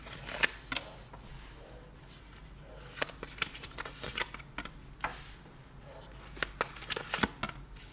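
Tarot cards being shuffled up close, with a steady patter of riffling and sharp flicking snaps coming in several bursts, quiet and without speech.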